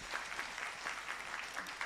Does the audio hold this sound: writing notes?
no